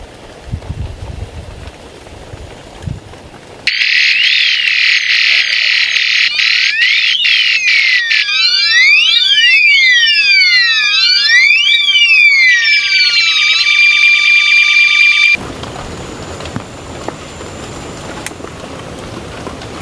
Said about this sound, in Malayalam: താഴെ ഒരു ഡിവൈസും ഉണ്ട്, അതിൻ്റെ ഒച്ചയാണ് നമ്മളിപ്പോൾ കേട്ടുകൊണ്ടിരിക്കുന്നത്